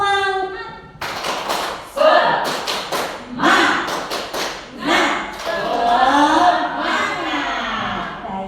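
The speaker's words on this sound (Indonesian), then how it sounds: "kalau kita mengajarkan anak-anak kita untuk tepuk semangat" A group performs the rhythmic Indonesian 'tepuk semangat' spirit clap at a school training session, with loud bursts of clapping in patterned beats mixed with voices chanting along.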